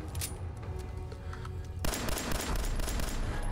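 An enemy fires at the player in Fallout 4, starting with sparse sharp shots and breaking into a dense, rapid burst of gunfire that continues loud to the end, with no talking.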